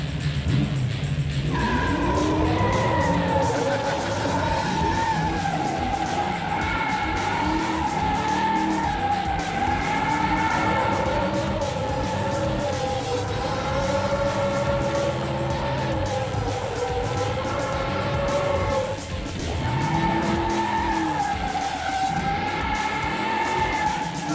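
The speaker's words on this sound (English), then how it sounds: "it makes all the right noises, but there's just not a lot of tire smoke there." A 1975 AMC Gremlin performs a burnout, its engine roaring continuously at high revs while the tires squeal and skid in a sustained, loud wail with rising and falling pitch, briefly dipping near the end before surging again.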